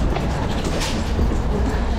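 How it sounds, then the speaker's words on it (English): Subway train in Buenos Aires rumbling loudly and continuously as it runs, with a heavy low roar and no speech. "And we're making it to the subway."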